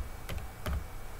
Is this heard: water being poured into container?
no